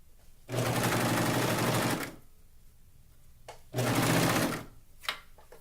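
A sewing machine stitches tankini swimsuit fabric in two sustained close bursts of rapid mechanical whirring, separated by quieter pauses, with a short final whir near the end.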